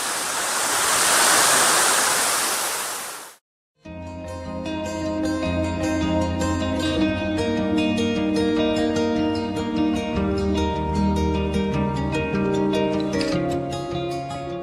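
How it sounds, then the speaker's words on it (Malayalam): A waterfall at Vattavada roars with a dense, steady rush for a few seconds, then cuts out abruptly and music takes over for the rest. "പക്ഷേ നല്ല അടിപൊളി വെള്ളച്ചാട്ടം കേട്ടോ."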